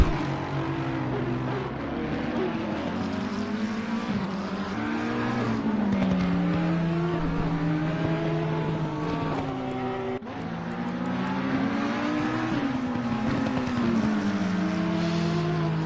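Race cars exiting the pits at the Nürburgring, several engines revving and climbing through gears in overlapping sweeps, loud and sustained, with a sharp change partway through.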